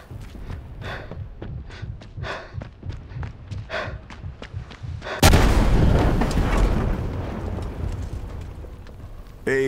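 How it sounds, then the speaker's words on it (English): An AA gun is blown up in Sniper Elite 5: footsteps and movement come first, then one sudden loud explosion erupts, followed by sustained rumbling and debris noise that slowly fades. "I need to blow up an AA gun over here."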